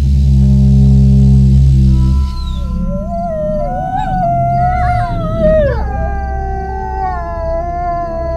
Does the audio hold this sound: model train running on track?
no